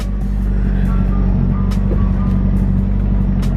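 A Nissan 200SX (B14) turbo engine idles steadily and loudly at close range, a low constant rumble with faint higher whines over it.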